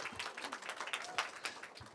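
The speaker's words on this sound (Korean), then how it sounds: "대미를 장식한 멋진 발표 큰 박수로 시작하겠습니다" Audience applause opening a teachers' research conference presentation, a steady wash of clapping from a room full of people, moderately loud and continuous for about two seconds.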